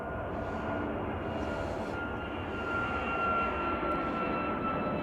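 Passenger jet aircraft at Chicago O'Hare airport, a steady broad engine roar with a faint high whine, continuous and fairly distant, slightly swelling partway through, with no talk.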